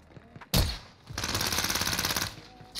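Gunfire in Call of Duty Cold War Warzone: one sharp shot, then after a short gap a rapid automatic burst of about a second, ending with another shot at the close.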